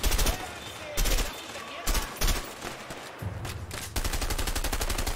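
Gunfire in the video game A Way Out, loud rapid bursts of automatic fire in several separate volleys with short gaps, ending in a long sustained burst.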